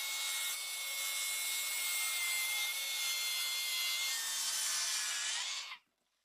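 Continuous hand-sawing through an IKEA wooden kitchen countertop, cutting it lengthwise along the slab, a steady close rasping drone for nearly six seconds that stops abruptly, followed by silence.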